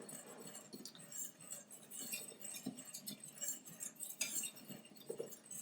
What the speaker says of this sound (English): when we have that dry ingredients, we're just going to mix them all together